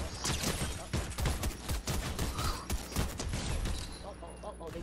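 Gunfire in a multiplayer video game battle, a crackle of rapid shots and scattered bursts close by, mixed with game effects and some speech.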